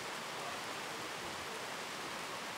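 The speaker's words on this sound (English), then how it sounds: "filming in the rain is loud" Steady rain falling outdoors at an event panel, a dense, even hiss of broadband noise that holds at the same level throughout, with no talk.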